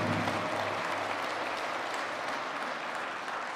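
An audience at a First Nations University powwow celebration applauds, a dense, even roar of clapping that holds steady throughout at close range.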